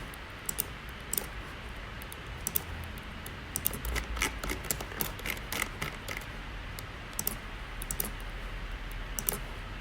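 A computer mouse clicks during Autodesk Revit parametric family modeling, with soft, irregular clicks scattered over a quiet background hiss.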